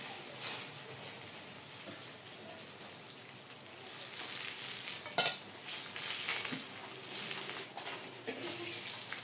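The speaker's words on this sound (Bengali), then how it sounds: "মাছ ভাজি তো হয়ে গেছে গা, মাছ ভাজি নামিয়ে নিব।" Fish frying in a pan, a steady crackling sizzle with soft stirring scrapes and a sharper pop near the middle, fairly quiet and with no talk.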